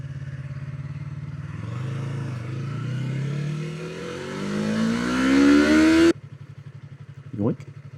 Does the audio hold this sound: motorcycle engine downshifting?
yes